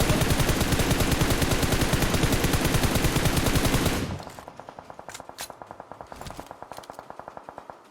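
Rapid automatic gunfire from the mobile battle royale game PUBG Mobile, a loud dense burst for about four seconds followed by quieter, more distant rhythmic shots that keep going steadily to the end.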